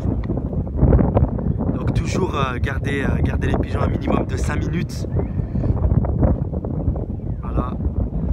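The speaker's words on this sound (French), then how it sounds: "il y a du vent" Wind buffets a microphone outdoors with a steady low rumble and gusty rustle while someone talks in French through the whole stretch, at a pigeon training session with a wide open view.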